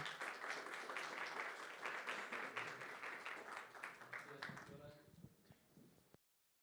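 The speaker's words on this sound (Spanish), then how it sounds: "¿Le recibimos con un aplauso?" A church congregation applauds steadily, loud and sustained, then the clapping thins out and stops abruptly near the end.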